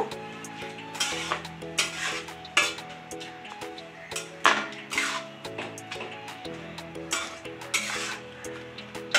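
Amla gooseberries are stirred in a pan over medium heat, with repeated scraping and clinking strokes from a spoon, heard up close over steady background music.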